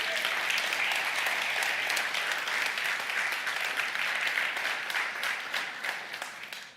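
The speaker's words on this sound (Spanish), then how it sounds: "Dale un aplauso a Dios entonces." A church congregation claps together in a sustained, even round of applause lasting several seconds, full and fairly close, then tapering off at the end.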